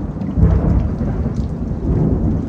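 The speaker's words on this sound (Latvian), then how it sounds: "zibens nav, pērkons vēl ducina" Deep thunder rolls continuously through a storm in Latvia, a heavy, close rumble layered with steady rain that fills the whole stretch without a break.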